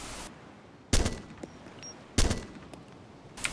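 Rifle shots in the video game DayZ, three sharp cracks spaced roughly a second apart, each with a short decaying tail over a quiet background hiss, the last one softer.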